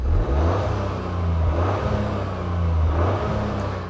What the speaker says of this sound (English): Thanks to emissions regulations, this car's exhaust doesn't sound particularly good.